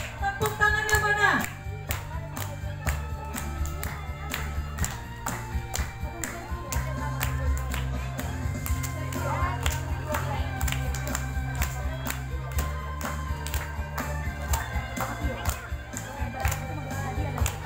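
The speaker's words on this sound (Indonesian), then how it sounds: "Yuk semuanya tepuk tangan" A congregation at an Easter service claps hands in a steady rhythm along with music, while voices sing and talk throughout.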